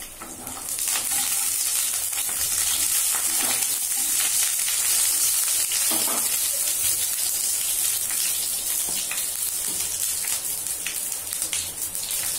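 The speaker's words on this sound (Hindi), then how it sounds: "अभी कढ़ाई चढ़ा के मैं उसमें ब्रिंजल को ऐसे कट करके उसमें फ्राई करती हूँ।" Sliced brinjal frying in oil in a kadhai makes a loud, continuous sizzle, with occasional scrapes of stirring and no talking.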